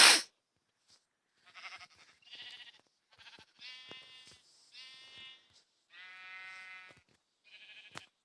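Sheep in the Minecraft video game bleat in a series of short, nasal calls with gaps between them, heard clearly with no talking.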